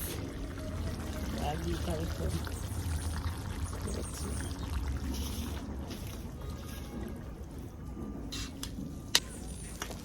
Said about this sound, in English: that's why I'm going to put more of the season ketchup water